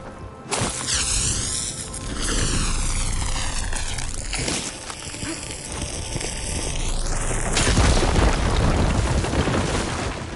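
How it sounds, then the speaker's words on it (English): A fire gleam is blown up in Horizon Forbidden West, loud and sustained, with a roaring blast, swooping whooshes and a big burst near the end, under game music with no talk. "Should be able to blow up that fire gleam."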